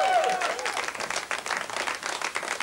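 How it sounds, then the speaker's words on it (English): A live audience on a British radio show gives a round of applause for a guest, dense and steady clapping throughout, with some crowd noise mixed in. "Give him a nice round of applause,"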